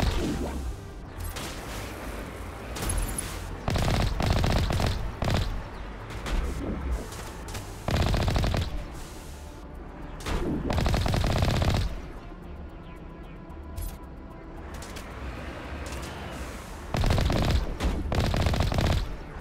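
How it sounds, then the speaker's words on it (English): Tank cannon in the video game Mass Effect fires in repeated loud, booming bursts with rattling gunfire between them, the barrages coming in clusters with short pauses. "That's a satisfying noise, the gun on the tank."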